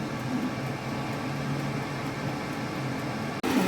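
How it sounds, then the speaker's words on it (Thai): A steady mechanical whir of an air fryer fan running continuously while chicken bakes, with a brief click and shift in tone near the end. "หม้อแบบไร้น้ำมันนะคะ ไม่ได้ทอดเนาะ"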